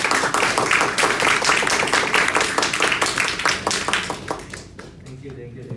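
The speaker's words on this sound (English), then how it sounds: "just give another round of applause to Chong and Sept." Audience applause at a masterclass, clear individual claps from a modest crowd forming a lively rhythm that thins out and fades toward the end, with a few voices under it.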